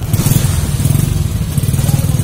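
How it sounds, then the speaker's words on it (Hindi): A motorcycle engine stalling after rain, running with a steady, low, rapid thumping idle that stays close and fairly loud throughout. "बाइक जो है दोबारा फिर बंद हो गया।"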